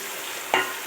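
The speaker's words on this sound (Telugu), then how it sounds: "బాగా పోపు బాగా వేయించుకునే వరకు వేసుకోవాలి." A brief sizzling stir in a hot pan of tempering with cumin, mustard seeds, onion and green chilli, a quick close burst of frying noise after near silence.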